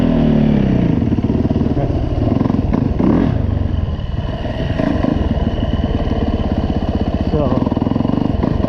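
A Yamaha dirt bike idles low in snow with a close, steady, slightly uneven putter and a few small revs. Someone speaks briefly over the engine.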